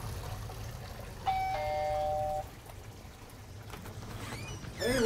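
A doorbell chime rings at the front door of a house on a fall home tour, two clear tones sustained for about a second over quiet outdoor ambience, with faint movement noise near the end.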